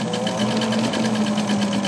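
A sewing machine stitches ruffles into TNT fabric strips, giving a steady, close, fast mechanical whir with an even rapid rhythm and no talking.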